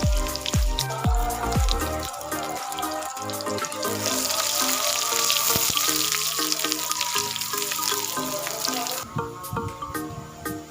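Sliced onion and red chillies hiss and sizzle in hot oil in a pan, a steady close frying noise with clinks and scrapes of a utensil early on, no voices.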